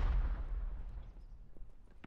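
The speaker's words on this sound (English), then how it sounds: "Bansku gets taken out by a sniper" Sniper rifle shot in a first-person shooter match, a single sharp loud crack with a booming low tail that fades, followed by a few faint clicks.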